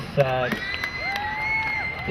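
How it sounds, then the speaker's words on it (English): A crowd at a junior national gridiron game between Queensland and Victoria cheers and applauds steadily throughout, with raised voices and whoops over a dense wash of clapping, under a nearby speaking voice. "I think we should give a round of applause to both teams"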